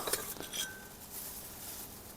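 Glass mug shaped like a giraffe, pulled from household rubbish, clinking as it is handled; a few bright, light clinks come close together at the start, then fade into quiet room noise.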